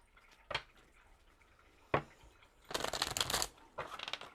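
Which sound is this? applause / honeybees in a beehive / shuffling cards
shuffling cards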